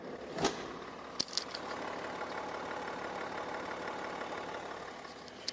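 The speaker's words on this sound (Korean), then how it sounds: "차량이 휘발유인지 경유인지 잘 모를 정도의 엔진 소음을 만나보실 수가 있습니다" A BMW 730Ld long-wheelbase xDrive diesel sedan idles with its hood closed, a quiet, smooth, steady engine hum with a couple of faint clicks, no voices.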